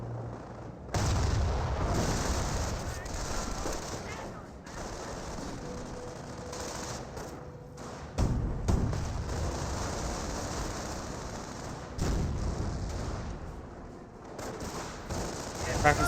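Machine-gun and rifle fire from Panzer Grenadiers in Company of Heroes, bursts and booms arriving in waves with artillery-like thumps, fairly loud, with voices speaking over the battle.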